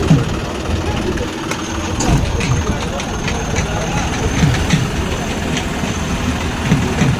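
Powertrac 455 and John Deere 5210 tractor engines laboring in a tug-of-war contest, a steady, rumbling low drone that runs throughout, with voices talking over it.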